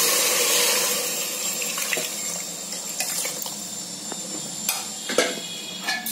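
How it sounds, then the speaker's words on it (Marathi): Hot water is poured into a cooking pot with salted paya soup, a steady gushing pour with a few light clinks toward the end. "आणि गरम पाणी घालते त्यामध्ये"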